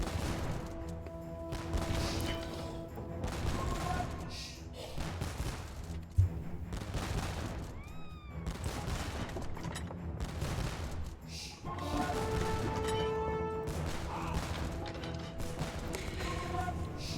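Organ guns fire volley after volley in a strategy-game battle, a dense crackling fusillade of shots and thuds that runs steadily under layered game music and battle noise, with one sharp louder bang near the middle.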